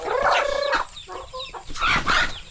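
Several chickens cluck and squawk close by, a busy overlapping flock with one louder drawn-out call at the start, no talking.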